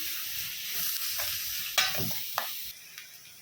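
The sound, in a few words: onions frying and being stirred in a pan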